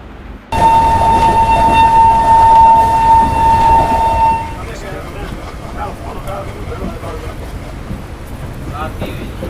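A passenger train crossing the Thar desert in Rajasthan rumbles steadily and loudly, with a long steady horn-like tone over the first seconds, then continues as a lower rattling roll.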